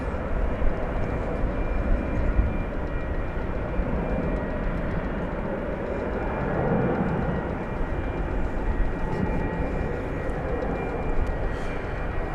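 A UPS cargo plane moves on the ground at DFW Airport at night, giving a steady, broad jet-engine roar that holds at a moderate level throughout, with no voices.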